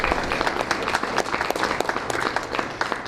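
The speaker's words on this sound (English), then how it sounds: "Let's give Ms. Burke a round of applause." An audience at a county school board meeting applauds for a retiring teacher, a steady burst of many hands clapping close by with no talk over it.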